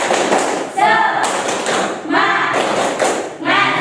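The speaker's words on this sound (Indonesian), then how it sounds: "Ayo tepuk semangat." A school class claps out a rhythmic spirit clap together in a classroom, loud, close bursts of hand clapping in repeating groups with voices mixed in.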